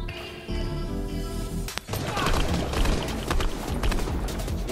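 Gunfire in a Fortnite match: rapid, dense bursts of sharp cracks rattle on and off for several seconds after a quieter opening, loud and close.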